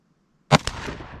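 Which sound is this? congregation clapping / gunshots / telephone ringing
gunshots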